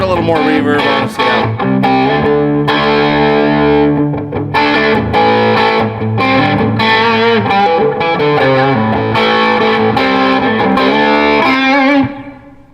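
Distorted electric guitar played through a REVV D25 amplifier with reverb, strummed chords and riffs ringing out loud and sustained for several seconds before fading at the end.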